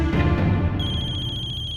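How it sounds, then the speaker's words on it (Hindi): A phone rings partway through a Hindi television drama scene: an electronic ringtone with a steady, bright tone enters after a muffled, busy start and continues clearly to the end. "एक मिनट, मियाँ जी का फोन है।"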